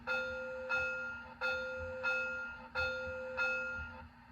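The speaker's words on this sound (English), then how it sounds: "So, F1 is the bell." The ESU LokSound bell of an HO scale Athearn Genesis Union Pacific FEF-3 #844 model steam locomotive rings in a steady, evenly spaced rhythm, six bright metallic strikes over a faint electronic hum.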